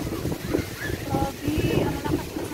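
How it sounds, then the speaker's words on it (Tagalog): Strong wind buffets the microphone on a seaside island outing, a steady low roaring rumble that runs throughout beneath people talking nearby. "Ang lakas ng hangin"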